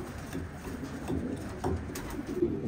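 Racing pigeons in a loft give a soft, steady cooing that carries on throughout, low and murmuring with a few slightly louder swells.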